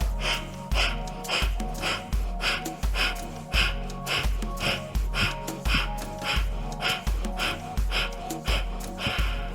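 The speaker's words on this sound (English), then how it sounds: "take another round of fire's breath here. Big breath in. Quick breaths out." Yoga breath of fire during a vinyasa flow session: rapid forceful nasal exhalations in a quick, even rhythm, about two per second, close and loud with no speech.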